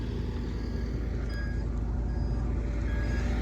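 A dump truck reversing on a dirt-moving development site, its backup alarm beeping in short bursts above a steady, loud diesel engine rumble.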